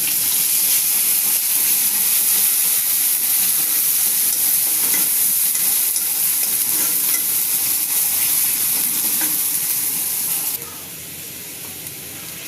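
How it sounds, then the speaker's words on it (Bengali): Ground spices frying in a pan with fried onions as the base for an egg curry, a steady loud close sizzle and crackle that carries on throughout and eases slightly near the end. "মশলা ভাজা হয়ে গেছে"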